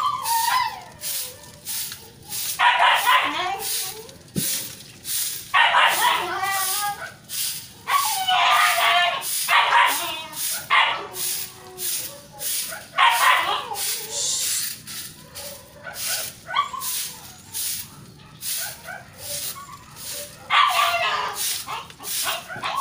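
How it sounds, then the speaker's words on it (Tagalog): Household dog barking repeatedly in short yipping bursts at moderate distance, mixed with a person talking and scattered rustling or spraying noise throughout. "Ingay ng aming aso."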